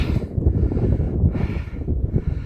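Gusty wind sweeps across an exposed hillside, buffeting the microphone with a steady low rumble and roar that swells and eases throughout.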